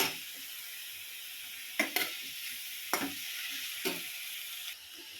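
Turmeric sizzles in hot oil in a pan, a steady frying hiss broken by a few sharp scrapes of a spoon stirring, close and alone with no talk.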